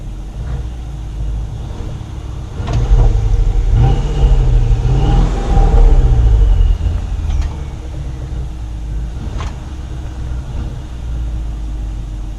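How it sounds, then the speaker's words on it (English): A Mercedes-Benz S550 with a 4.7-liter bi-turbo V8 sends out a deep exhaust note, idling low, then swelling in a rev of several seconds before settling back to a steady rumble, close and alone. "let's take a look at how that exhaust note sounds"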